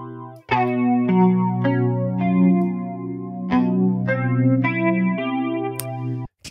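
Electric guitar passed through a chorus-style modulation effect in a mixing context, a steady run of picked notes ringing into one another with a shimmering, wavering tone, fairly loud and alone with no voices.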